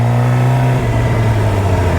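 An old Plymouth Cuda engine revs loudly and close, with a deep steady tone that shifts pitch partway through as the revs change, heard without talk.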